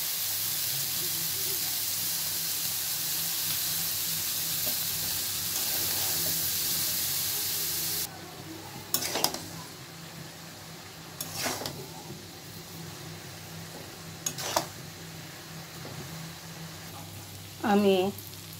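Diced papaya frying in a pan of hot oil with coriander powder, chili powder and salt. A loud, steady hiss fills the first half, then drops to a softer sizzle broken by a few sharp clinks and scrapes.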